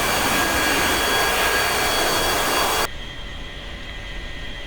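Steady, loud broadband roar of an A-4E jet engine in the DCS flight simulator, a constant rushing hiss that drops suddenly to a quieter, duller rumble partway through.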